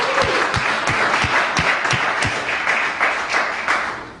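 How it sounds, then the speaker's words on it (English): A crowd at a county freeholder meeting applauds a coach steadily, many hands clapping together in a dense, lively burst that tapers slightly toward the end. "I'd like to give it up a special round of applause for Coach Henry."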